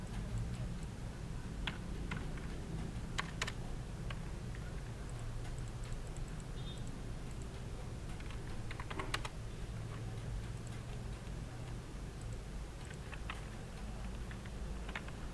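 A faulty computer keyboard is typed on in scattered, light clicks and taps, some in short bursts, over a low background hum.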